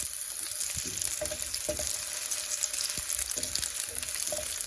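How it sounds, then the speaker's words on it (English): Sliced zucchini fries in an oiled pan, giving a continuous close crackling sizzle with occasional soft clinks and shifts as pieces settle, and no talking. "And fry them until they soften"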